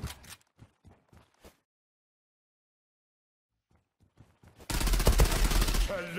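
Kriss Vector fire in a shooting video game: a few sharp separate shots, a silent pause, scattered single shots, then a dense, loud sustained burst of automatic fire.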